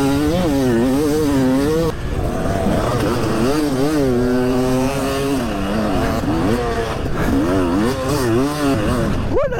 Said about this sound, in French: Ils ont dû entendre le 2 temps